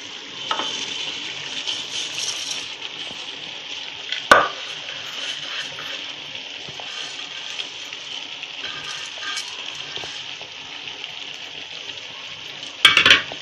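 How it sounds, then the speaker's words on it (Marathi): Soaked rice being stirred gently into a chicken biryani pot, a soft steady scraping and sizzling with a couple of sharper clinks of the spoon against the metal pot. "चांगले हलवून घ्यायचे हलक्या हाताने, कारण ते भिजलेले असतात ना."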